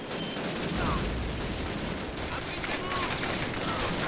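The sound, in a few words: machine gun fire in Call of Duty Classic video game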